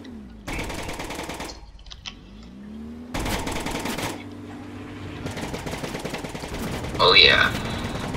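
A big gun in a zombie-destroyer video game fires in rapid automatic bursts, loud and close, several rattling volleys separated by short pauses, with a voice briefly heard over the shooting.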